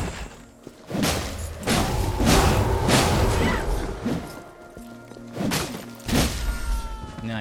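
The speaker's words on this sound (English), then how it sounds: "Oh, he does explode." Heavy thuds and crashing impacts as an enemy explodes in the Ashen action video game, several loud, blunt bursts spaced irregularly over a low droning background.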